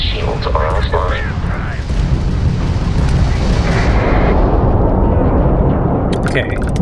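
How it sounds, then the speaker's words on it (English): In Starfield, a homing missile fires at an enemy starship during a space battle, a loud booming blast with rumbling roar that sustains across the clip amid other combat noise, with voices talking over it. "we can lock in to fire a homing missile"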